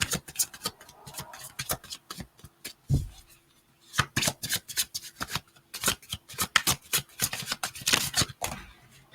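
Tarot cards are shuffled and dealt for a reading, giving a steady run of crisp, close riffling snaps and soft slaps, with a short pause partway through and no voices.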